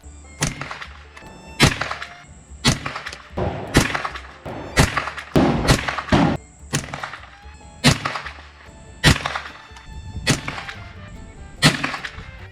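Repeated unsuppressed rifle shots firing Federal Automatch supersonic rounds ring out, about ten loud sharp cracks spaced roughly a second apart, each with a quick echoing tail and no talking between them.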